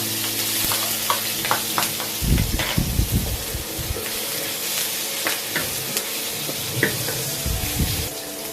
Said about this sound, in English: Stir fry the garlic with the anchovy.